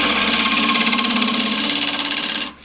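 A woodturning tool cuts into a square wooden plate on a lathe, reaching the tougher feathered grain at the centre, giving a steady loud rasping, ripple-textured scrape that stops abruptly near the end.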